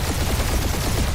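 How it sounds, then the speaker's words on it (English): Dense, continuous rapid gunfire from a space battle in Guardians of the Galaxy, a loud sustained barrage of blasts with no pauses over about a second. "We're taking fire."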